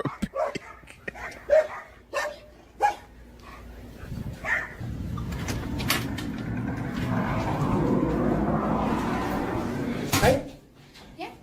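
A dog barks a few short, sharp times at police property in Valley Brook, Oklahoma, then goes quiet under a steady engine rumble, with one more bark near the end.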